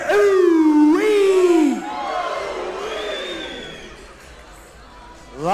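A Queensland crowd at a fight event yells a loud, drawn-out "ooh-wee" with the pitch swooping, then a softer murmur of cheering trails off before another burst of voices starts at the end.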